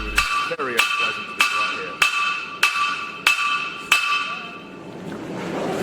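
Forging hammer blows ring out on an anvil during a three-heat blacksmithing challenge: about eight loud, evenly spaced metallic strikes with long bright ringing tails, close by, then a pause of softer background noise.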